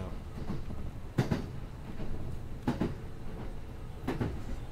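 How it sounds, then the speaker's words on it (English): Train in the video game BOKURA rumbling past with a steady low roar and three sharp clacking bursts at regular intervals, loud and continuous with no talk. "It's a train. That is super loud."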